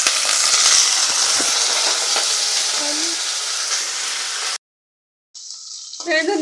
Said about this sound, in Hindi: अभी हम इसमें थोड़ा सा पानी डालेंगे।